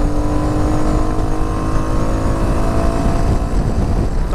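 A Royal Enfield Meteor 350 motorcycle engine runs loud and close from an onboard position, a continuous throaty drone with steady harmonics as it pulls through the gears, and a slight shift in tone near the end.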